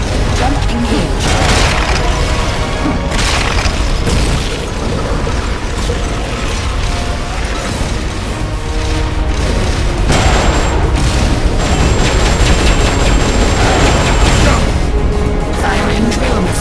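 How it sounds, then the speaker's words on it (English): Missile blasts in Metal Gear Solid: Peace Walker, heavy booming explosions layered with mechanical game effects, loud and continuous across the whole stretch, with a brief dip midway before another dense barrage. "Firing trail missiles."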